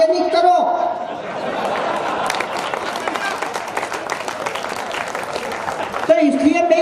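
Sustained audience applause with clapping and crowd noise at a Hindi comedy poetry gathering (hasya kavi sammelan), loud and dense for several seconds, with a voice speaking briefly before and after it.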